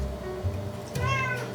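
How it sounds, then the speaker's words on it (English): A cat meows once, a clear drawn-out call heard near in a home kitchen over faint background noise. "Do you see the cat? You see the cat."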